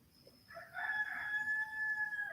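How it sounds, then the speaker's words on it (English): A rooster crows once in a long, drawn-out call that rises and holds steady, heard clearly from a short distance over a faint, low background hum. "There's that rooster."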